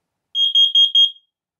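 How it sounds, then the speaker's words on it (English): Smoke alarm going off during a test, four quick piercing high beeps in an even rhythm, loud and close, with nothing else around them. "Testing smoke."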